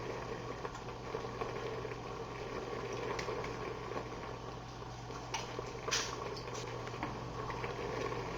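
A cream sauce comes to a boil in a pot on a kitchen stove, giving a faint, steady bubbling patter with a low hum beneath it and an occasional soft clink.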